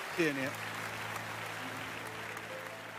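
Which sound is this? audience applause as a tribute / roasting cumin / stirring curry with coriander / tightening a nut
audience applause as a tribute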